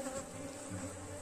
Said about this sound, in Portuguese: Você nem precisa derrubar ela, que não é um enxame tão grande.